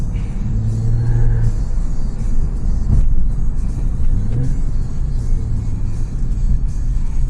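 An Acura TL with an automatic gearbox revs while downshifting on a calm suburban morning drive, its engine note rising and falling close by under steady road rumble.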